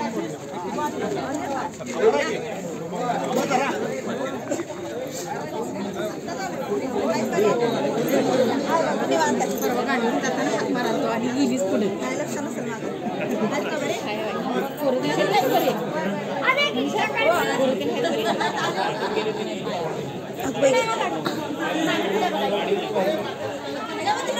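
A large crowd chatters at a Ganpati mahaprasad at Kranti Chowk, Kandalgaon, Kolhapur, a dense, continuous murmur of many overlapping voices close by.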